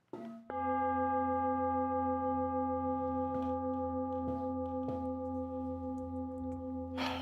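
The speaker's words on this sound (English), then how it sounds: "See if I can get the bell to ring here and online all at the same time." A meditation bell is struck once and rings out with a long, steady, humming sustain that slowly fades, clear and alone during a quiet stillness session at The Bodhi Tree in Hawaii.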